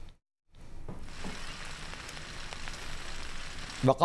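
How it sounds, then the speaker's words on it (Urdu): Steady rain falls in Karachi, a continuous broadband hiss that starts after a brief silent gap and keeps on at moderate level, then ends in a short burst of other sound. "وقفے سے بارش کا سلسلہ جاری ہے"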